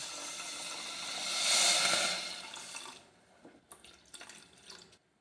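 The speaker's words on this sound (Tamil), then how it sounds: "இந்த சர்க்கரை முழுகிற அளவுக்கு தான் தண்ணி ஊற்றணும்" Water is poured into a pot of sugar for a sweet syrup, a steady close rush that swells and then breaks into a few splashes and drips as the pour stops.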